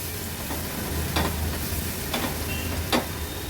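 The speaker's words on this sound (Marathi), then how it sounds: "तेलावर हे वाटण परतून घेऊया।" A coarsely pounded spice paste sautés in oil for a surmai fish thali, with a constant, close sizzle broken by a few sharp clicks and scrapes of stirring.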